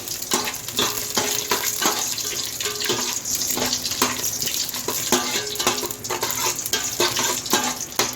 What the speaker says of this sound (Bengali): দিয়ে দিলাম তেজপাতা গোটা গরম মশলা এইবারে এটাকে একটু ফ্রাই করে দেব